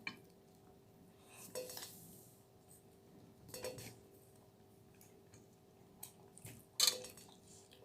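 Plates and cutlery clink softly at a home lunch of rice, a few sharp scrapes and taps spread across a quiet room, with one brighter clatter near the end.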